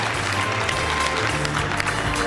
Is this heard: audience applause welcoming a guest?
yes